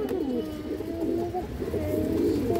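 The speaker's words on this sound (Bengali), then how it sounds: "হারিকেন মাদি কবুতর আছে, মাশাআল্লাহ" Female Hurricane breed pigeon cooing close by, soft repeated low throaty coos running continuously over a quiet background, with no talking.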